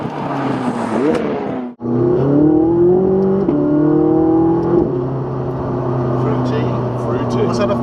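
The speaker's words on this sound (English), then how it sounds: "Was that a full bore acceleration in seconds, sir?" A McLaren 675LT engine revs hard under full-throttle acceleration, loud and close, with rising harmonic tones through several gear pulls and a brief cut near two seconds; people talk over it.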